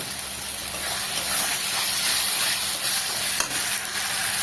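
Sliced onions with turmeric frying in a pan, a steady hissing sizzle with soft scraping stirs over several seconds, close and fairly loud.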